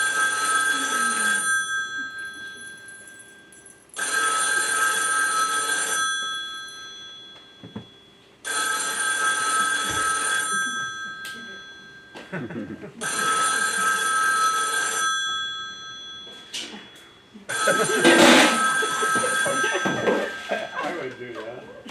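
A telephone bell rings loudly in five long, evenly spaced bursts, with a voice speaking between and over the rings.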